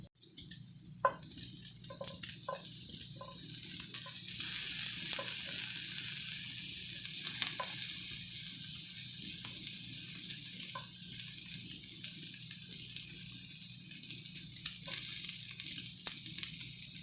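Chicken and vegetables fry in a pan with a steady, soft sizzle and crackle, plus a few faint clinks, continuous and close throughout.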